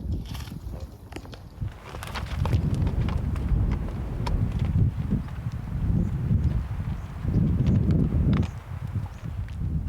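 A horse walks past on a mountain trail in the Wind River Range, hooves clip-clopping in a steady, fairly close rhythm over soft wind noise, with no talking.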